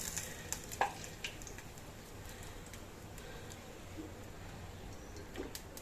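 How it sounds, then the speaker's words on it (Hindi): Pakoras deep-frying in hot oil give off a quiet, steady sizzle with scattered faint pops and crackles, a low continuous hiss that runs evenly throughout. "तब तक हमारे पकौड़े यहाँ पे तलकर गोल्डन ब्राउन हो चुके हैं।"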